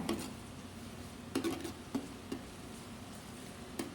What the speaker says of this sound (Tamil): இஞ்சி பூண்டு பேஸ்ட்டு பச்சை வாசனை போகிற வரைக்கும் நல்லா கிளறி விடணும்